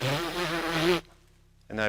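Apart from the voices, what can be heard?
lips buzzing for trombone playing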